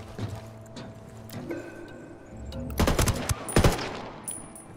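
Gunfire erupts in the video game Ghost Recon Wildlands, a burst of rapid automatic shots that swells to a loud, dense cluster near the end, set over a low game ambience.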